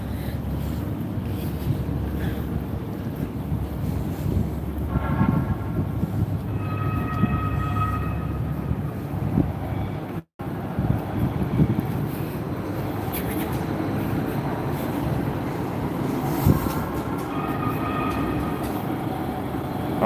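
A Hudson Bergen Light Rail train bound for Hoboken Terminal passes with a continuous rumble and rolling rail noise under wind buffeting, and faint voices are heard briefly.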